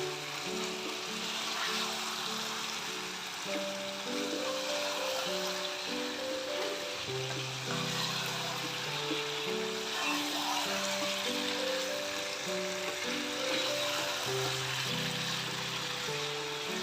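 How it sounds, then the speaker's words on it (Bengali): Whole onions fry in a pan for a restaurant-style onion chicken masala, giving a steady, soft sizzle under continuous background music. "গোটা গোটা পেঁয়াজগুলো ঢেলে দিয়ে এটাকে একটু ভাজা ভাজা"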